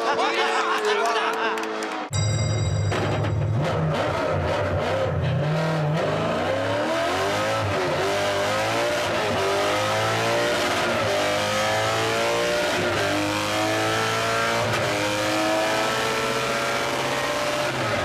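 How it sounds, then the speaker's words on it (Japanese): A Toyota 86 drift car with a V8 engine screams at high revs on a D1GP drift course, the engine note sweeping up steadily through the gears, loud and continuous, with a commentator talking over it. "V8 サウンドが響いているが、速度が上がってきた"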